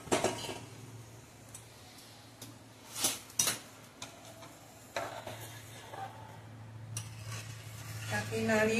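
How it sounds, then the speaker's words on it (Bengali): Vermicelli stirred through milk in a pot with ghee and bay leaves, a spoon scraping and clinking against the metal in scattered strokes, with a low steady hum underneath and a soft sizzle rising near the end. "তাকে নাড়িয়ে চাড়িয়ে সুন্দর এবারে একটু ফুটতে দেবো"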